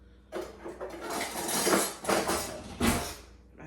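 A metal spatula clanks and scrapes against a pan while pressing a breakfast sandwich flat, several distinct knocking and scraping bursts in a row, fairly close and loud.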